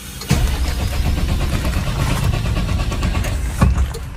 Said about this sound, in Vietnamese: Bây giờ mình thử đề máy lên nha.